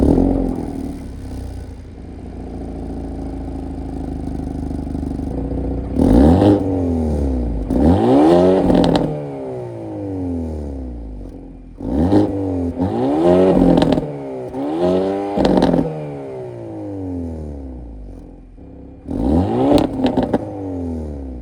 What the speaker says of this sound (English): let's start this thing up and listen to the exhaust